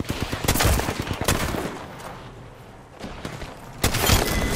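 Bursts of shotgun fire in Apex Legends gameplay: loud, sharp blasts in quick clusters at the start and end, with a quieter gap of sparser shots in between.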